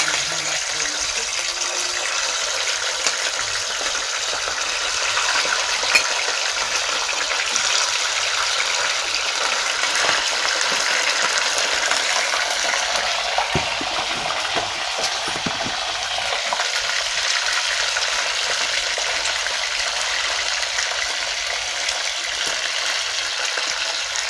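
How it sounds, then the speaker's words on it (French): Fish frying in heated oil gives a steady, close hiss and crackle that runs the whole way through, with a few faint clinks and no talk. "Je vais faire frire mon poisson."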